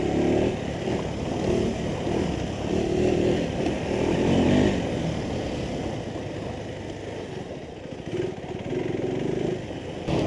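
Engine of a 2026 KTM 390 Adventure 350cc motorcycle under way, a loud continuous drone that rises and falls with throttle and gear changes, heard close with wind rush and no talk.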